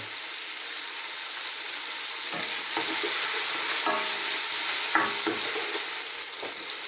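Tomatoes simmer down into sauce in a pan for a Filipino crab, misua and sponge gourd dish, giving a steady close sizzle with a few soft stirring scrapes scattered through it and no voices.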